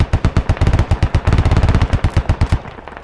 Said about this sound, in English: That striker is going to keep on laying down 50 cal fire as much as he can